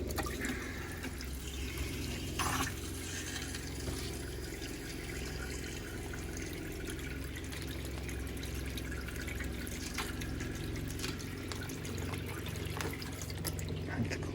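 Water runs steadily from an RV's inside sink faucet during de-winterizing, a continuous broadband rush that stays even and close throughout, with the onboard water pump running beneath it.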